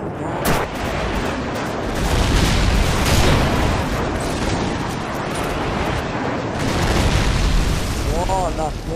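Friendly airstrike explosions in Call of Duty 4 rumble as a dense, continuous barrage of heavy booms and bursts, loud and close, with players talking over it.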